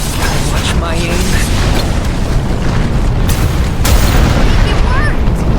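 In a Visions of Mana battle, an ancient cannon fires amid a dense, loud roar of booming noise, with a sharper blast bursting out near the end while a voice talks over it.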